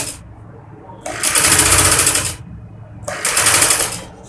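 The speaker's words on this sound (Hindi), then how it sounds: "किनारे किनारे से हम सिलाई लगा देंगे।" An electric sewing machine stitches along the lining edges of a kurti in two loud, close bursts of fast needle whirring separated by a brief quiet pause.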